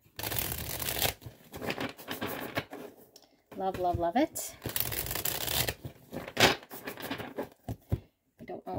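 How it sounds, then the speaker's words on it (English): Tarot cards with a mushroom-themed deck, some sticking together, are shuffled in quick riffling bursts, close up, while a person talks between them. "we're really needing to give her a good shuffle because these cards are getting kind of stuck"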